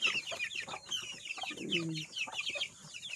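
Hens and small chicks cluck and peep close by, with a dense chatter of high chirps and a few lower clucks from the adult birds.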